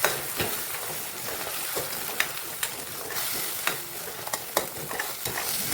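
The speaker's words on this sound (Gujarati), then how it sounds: "હવે તેલ છૂટું પડે ને ત્યાં સુધી આપણે હલાઈ કરશું" A spoon stirs a tomato, garlic and chili gravy for pav bhaji as it fries in oil, giving a steady close sizzle with repeated scraping strokes and light clinks against the pan.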